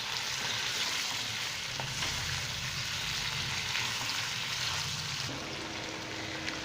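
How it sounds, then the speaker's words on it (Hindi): Chicken pieces fry and sizzle with garlic in a hot pan for chicken macaroni, a steady dense crackle with occasional stirring scrapes, close and even throughout. "अभी इसमें मैं चिकन शामिल कर लेता हूँ और इसको मैं अच्छे से भून लेता हूँ।"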